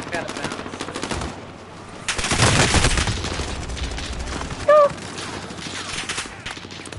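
Video game gunfire in a first-person shooter, a sustained loud burst of rapid automatic fire lasting about two seconds, then scattered shots under background game noise.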